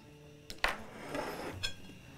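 A cooking pot set down on a stove burner in a home kitchen, giving a couple of brief metallic clanks and knocks close by, with quieter handling noise in between and no talk.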